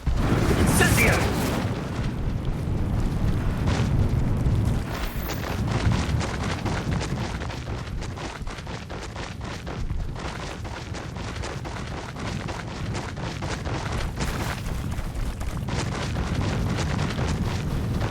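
In Hogwarts Legacy, an Incendio fire spell goes off as a loud fiery burst at the start, then trails into a long crackling, rumbling roar of flames.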